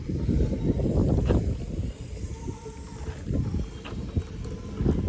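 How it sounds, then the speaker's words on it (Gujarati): Gusty evening wind buffets the microphone in uneven waves, with faint patters of light rain beginning outdoors. "પવન ઉપડ્યો છે અને ધીમો ધીમો વરસાદ એ ચાલુ થયો છે"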